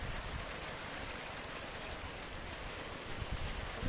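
Heavy rain pours down outdoors on a cold day, a dense, even hiss that fills the whole stretch without any break or voices.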